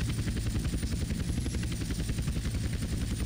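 A helicopter in GTA San Andreas Definitive Edition thrums with a steady, loud rotor chop and engine roar that holds constant throughout, with no voices over it.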